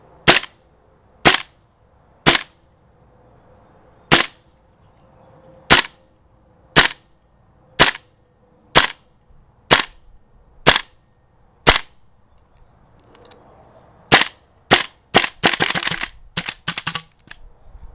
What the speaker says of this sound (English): here's the firing test for you guys.